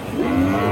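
A Sahiwal heifer at the Chhatra cattle market in Naogaon gives one short, loud, low moo close by, with no other sound over it.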